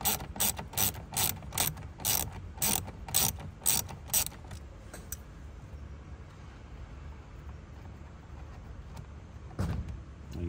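A ratchet with a socket works a tight bolt inside a car, sending out a rapid run of sharp, loud clicking bursts. A quiet pause follows, then one more short burst of clicks close by.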